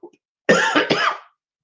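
A single harsh, close cough in two quick bursts, loud and raspy, with silence around it.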